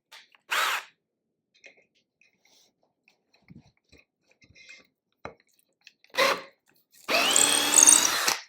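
A Craftsman power tool runs in short bursts, two brief whirs, then a longer buzzing run at the end, with faint handling clicks and knocks between them close to the microphone.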